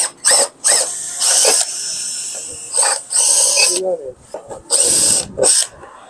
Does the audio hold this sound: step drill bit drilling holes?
yes